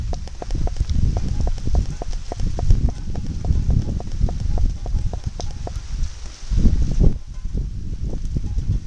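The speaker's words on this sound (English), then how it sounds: "Here comes a good little gust." Steady wind from Hurricane Irene in upstate New York rushes and buffets the mic, with a stronger gust swelling near the end, carrying a rustling, fluttering texture from trees throughout.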